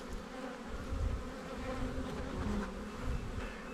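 Dense, steady buzzing of many honey bees swarming around a strong hive box, close and continuous with no pauses and no talking.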